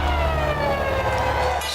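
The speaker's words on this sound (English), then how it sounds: "sirens." A loud, steady wailing siren fills the whole moment, its tone holding high and continuous with road noise underneath.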